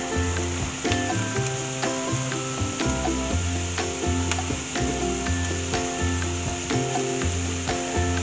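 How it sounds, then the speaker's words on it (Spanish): Onion fries in butter in a pan, giving a steady, close crackling sizzle with occasional scraping stir strokes and a low background hum. "y dejaremos que la cebolla se dore"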